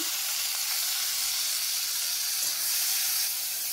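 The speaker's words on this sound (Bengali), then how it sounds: "এবার ওই তেলে দিয়ে দিলাম পেঁয়াজ কুচি।" Chopped onions, about 100 grams, fry in hot oil in a wok for a fish curry, giving a steady, loud, close hiss and sizzle that runs unbroken with no talk.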